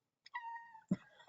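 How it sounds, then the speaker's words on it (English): A pet cat gives one drawn-out meow up close, followed by a short chirping mew, in a quiet room. "So here's my cat."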